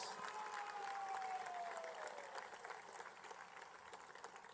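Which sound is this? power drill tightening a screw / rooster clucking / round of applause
round of applause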